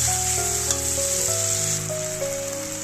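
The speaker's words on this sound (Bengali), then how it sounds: "মশলাটা দিয়ে আলুটা আমি একটু কষিয়ে নেবো" Potatoes and spices sautéing in oil for a vegetarian okra dish, a loud continuous sizzle with a few faint stirring scrapes, close and steady, no talk.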